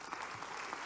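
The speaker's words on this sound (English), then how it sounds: "Also a round of applause." Audience applause at a roundtable discussion on dams and reservoirs, a steady, dense clapping that fills the whole brief moment at even loudness with no voices over it.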